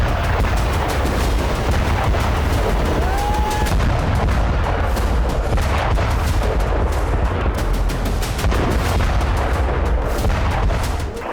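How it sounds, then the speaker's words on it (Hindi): Repeated heavy blasts and rumbling from Israeli airstrikes inside Lebanon, a dense, loud, continuous barrage of booms and cracks with no talk over it. "एक बार फिर इजरायली फाइटर जेट्स ने उड़ान भरी और फिर लेबनान की सीमा के भीतर वैसे ही धमाके शुरू हो गए।"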